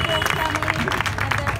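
A crowd at a Distinguished Gentleman's Ride 2019 awards ceremony breaks into steady applause, dense overlapping clapping at moderate volume running throughout, with voices murmuring underneath.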